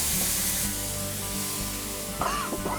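A hot pan of prawns and garlic hisses with a steady, close sizzle as amber beer is poured in to deglaze, with a voice briefly speaking near the end.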